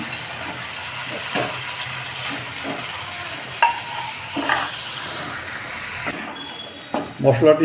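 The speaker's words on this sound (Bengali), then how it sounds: "এর মধ্যে ভেজে রাখা আলুগুলো দিয়ে দিচ্ছি" Fried potatoes are stirred into a steady sizzling onion-and-garlic-free masala in a pan for a fish egg curry, with a soft scraping stir and a brief spoken word over the hiss.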